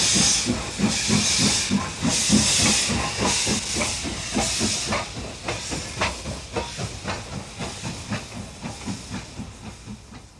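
An N2 steam locomotive hauling a train, its rhythmic chuffing exhaust beats and steam hiss quickening steadily, loud at first and gradually fading into the distance, with no talking.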